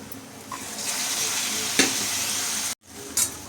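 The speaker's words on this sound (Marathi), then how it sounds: "त्यामध्ये मी आता शेंगदाणे घालते." Peanuts tipped into spices frying in a pan for alu bhaji, giving a steady close sizzle with a few stirring scrapes and a brief clatter, one short break near the end before the frying noise resumes.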